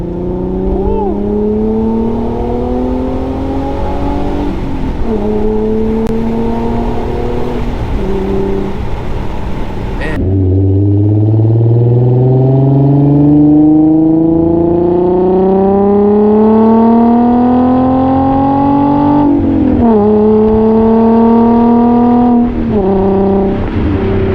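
A 2008 Infiniti G35S sedan with a six-speed manual gearbox revs its engine and exhaust loudly and up close, climbing and dropping through several sweeps with clean, rising tones and slight rasp.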